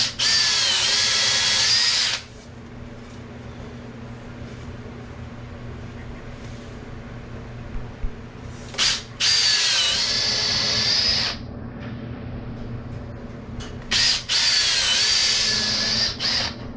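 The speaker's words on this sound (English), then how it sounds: "And these I am going to do two screws into each stud." A power drill drives screws into wall studs during the building of a piano wall coat rack, running in three loud, close high-pitched whirring bursts with quieter pauses between them.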